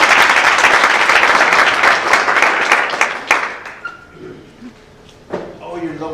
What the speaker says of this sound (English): So another big round of applause for our sponsors.